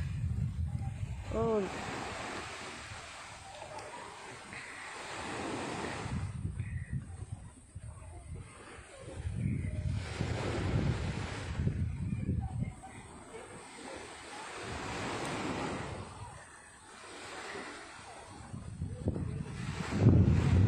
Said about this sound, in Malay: bunyi ombak nyaman nampaknya